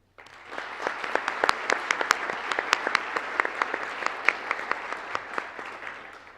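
Audience applause at a university honors night ceremony, a dense, steady wash of clapping with sharp individual claps standing out, rising quickly and holding strong throughout.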